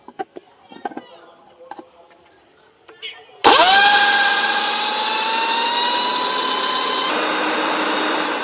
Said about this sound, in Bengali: এবার মিক্সির বাটির মধ্যে দিয়ে দিচ্ছি।